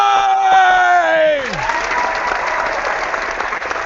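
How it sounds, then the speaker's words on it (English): A live studio audience claps and whoops for a beer review show, a shout cutting out before steady, fairly loud applause takes over and runs to the end. "For your benefit, so you can do the clapping"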